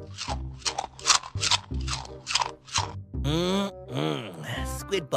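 A cartoon character munches on squid balls: a rhythmic run of voiced, crunchy chewing noises, then drawn-out vocal groans of enjoyment, close and fairly loud.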